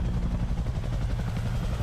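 Helicopter in the video game S.T.A.L.K.E.R. 2, a loud, close, continuous low rotor thumping with rapid rhythmic chop and no talk over it.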